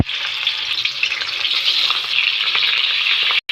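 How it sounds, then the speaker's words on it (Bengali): Khoira fish fry in hot oil with a loud, dense, steady sizzle and crackle close to the microphone, continuing without talk until it cuts off abruptly. "মাছটা ভেজে নেব।"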